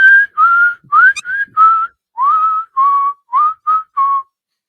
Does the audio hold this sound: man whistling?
yes